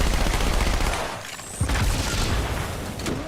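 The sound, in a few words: rocket launcher firing in the video game Halo 2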